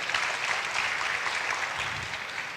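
A crowd applauds at a pilgrims' reunion for Holy Land tour travellers, the clapping dense and steady from start to finish with no voices over it.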